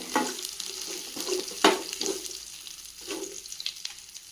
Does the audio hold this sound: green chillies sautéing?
yes